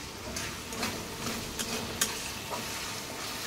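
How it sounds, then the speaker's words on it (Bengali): Spice paste stir-fried in a pan while cooking shapla with air fish, giving a continuous close sizzle with light rhythmic scraping and a few soft ticks of the utensil. "এই যে মশলাটা ভালো করে কষাই নিতে আছে।"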